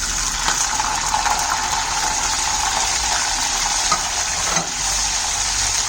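Buttermilk chillies fry in hot oil in a kadai, giving a steady, loud, close sizzle that holds unbroken throughout with no talk over it.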